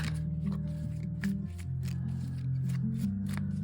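Tarot cards being shuffled by hand, a quick series of crisp riffling flutters and taps close up, over a low steady hum.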